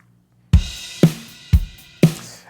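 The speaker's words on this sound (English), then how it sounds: "It's a drum loop, kick," Drum loop of kick, hi-hat and snare hits: four strong, evenly spaced hits about half a second apart, alternating deep kicks and brighter snares with hat sizzle on top, loud and dry after a brief silence.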